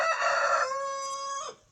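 A backyard rooster that has just had its no-crow collar removed gives one crow, a single drawn-out, clear call held for more than a second before it drops away, close by with nobody talking.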